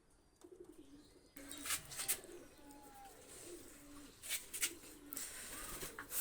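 Pakistani high-flyer pigeons coo softly and repeatedly nearby, with low throaty calls over a faint background and light rustling.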